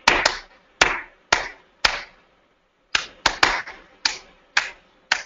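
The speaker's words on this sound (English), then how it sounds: "So I could clap out a song, and you could guess what it is." Sharp hand claps beating out a song rhythm: a group of quick claps, a short pause, then another run of uneven claps, close and alone.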